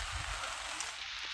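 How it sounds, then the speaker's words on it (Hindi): Heavy rain pours steadily in a village during a downpour, a dense, even hiss of drops across the whole clip with faint low rumbling beneath, no voices. "अंदर देखो बारिश कितनी बढ़िया हो रही है।"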